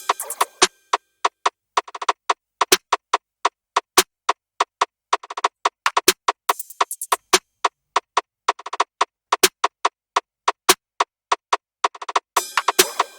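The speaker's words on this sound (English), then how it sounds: "the drums by themselves sound like this" An FL Studio drum loop plays by itself, crisp and loud, with rapid hi-hat-like ticks and regular sharp snare or clap hits in a steady trap-style rhythm, ending in a dense burst of quick rolls.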